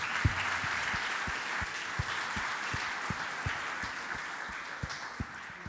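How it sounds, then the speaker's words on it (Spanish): A church congregation claps together at a Spanish-language service, a steady wash of applause with a few sharper individual claps standing out near the front, holding level throughout. "Vamos a dar un aplauso al Señor."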